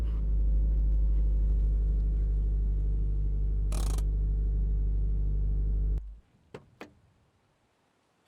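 A restored orange junkyard car with low miles idles close by in a steady, loud low rumble for several seconds, then cuts off abruptly, leaving a few faint clicks and ticks in near silence.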